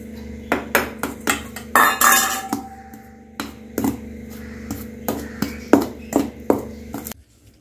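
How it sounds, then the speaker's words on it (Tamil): A spoon clinks and scrapes against a metal vessel while roasted gram flour is stirred into liquid for Mysore pak. The sharp, ringing taps come in an irregular rhythm, close and fairly loud. "இப்போ இந்த கடலை மாவு வறுத்து வச்சுருக்கல இதை இதில் கொட்டி கரைச்சிக்குவோம்"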